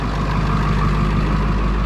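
Diesel truck engine idling close by with a steady, loud low rumble and constant hum, no voices.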